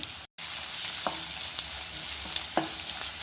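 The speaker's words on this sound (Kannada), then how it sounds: "ಈರುಳ್ಳಿ ಚೆನ್ನಾಗಿ ಫ್ರೈ ಆಗೋ ತನಕ ನಾವು ಹುರಿಸ್ಕೋಬೇಕು" Chopped onion, mustard seeds, curry leaves and green chillies fry in oil for Mangalore-style sajjige upma. A close, steady hiss of sizzling carries a few soft crackles and pops, with a brief gap near the start.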